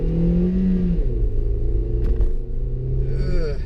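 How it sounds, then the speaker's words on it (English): A 2018 Toyota Yaris with a 106-horsepower engine pulls away at full throttle, a steady loud engine drone rising slowly in pitch from inside the cabin, with a brief clatter midway and no talk. "I'm gonna go ahead and give it the beans right now just so you can see."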